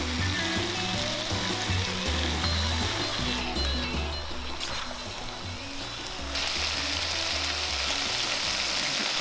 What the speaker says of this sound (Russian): Что на сковородке, если жаришь очень много овощей